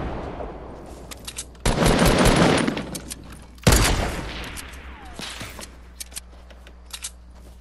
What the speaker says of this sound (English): We're getting sniped at.